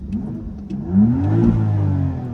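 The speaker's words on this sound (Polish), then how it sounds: "Wydech w trybie Efficient, bez podbijania dźwięku" A BMW X3 M50 exhaust in Efficient mode gives one muffled rev that swells and peaks briefly, then eases back to a steady, subdued engine note.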